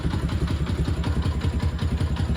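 A cold Dnepr motorcycle engine idles very low in freezing weather, its steady, close, loud low thudding pulses repeating evenly throughout with a rough mechanical clatter.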